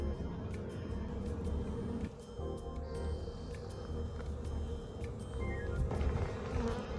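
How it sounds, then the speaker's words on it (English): A dense, steady drone of many honey bees buzzing close by at a hive around a queen cage, continuous and loud throughout with no voices. "We now have a handful of bees who have made it up to the top and have discovered the queen"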